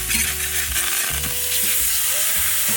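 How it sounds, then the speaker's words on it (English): Steak sizzling loudly in a hot pan as it is flipped, a dense close hiss with low clunks and scrapes of the turn underneath. "Moving back to our steak, I'm gonna flip it."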